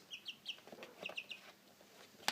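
Soft, close clucking from chickens mixes with a few high chick peeps in short bursts, fairly quiet, ending with a sharp click.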